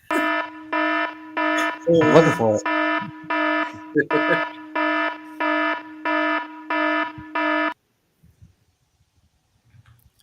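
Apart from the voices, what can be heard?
alarm sound on a live stream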